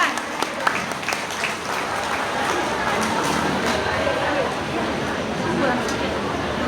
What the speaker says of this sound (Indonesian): Boleh tepuk tangannya dulu ya